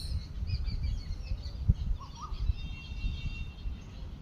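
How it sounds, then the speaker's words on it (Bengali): Birds chirp and twitter in the background under shady trees beside a field in Durgapur, India. The calls are faint and scattered over a soft outdoor rumble, and no one speaks. "ব্যাকগ্রাউন্ডের পাখিদের আওয়াজ নিশ্চয়ই আপনি শুনতে পাচ্ছেন।"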